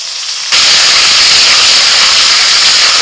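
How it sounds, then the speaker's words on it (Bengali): Spices sizzling in hot oil for tempering: bay leaves, dried red chillies, five-spice, asafoetida and ginger-fennel paste. The hiss bursts in abruptly, loud and close, and holds as a dense, steady roar. "তেলের মধ্যে ফোড়নে দিচ্ছি তেজপাতা, শুকনো লঙ্কা, 5 ফোড়ন, হিং"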